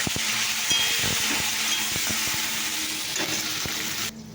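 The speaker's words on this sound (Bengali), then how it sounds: "তো দেখো ফুলকপি ভাজা হয়ে গেছে," Cauliflower frying in hot oil gives a steady, close sizzle with occasional clinks and stirring knocks, cutting off abruptly near the end.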